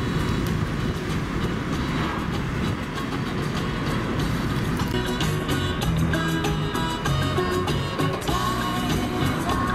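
An S-Bahn commuter train in Berlin rumbles past nearby with continuous rolling wheel noise, squealing tones and rattling clatter of the carriages, steady and loud with no talk.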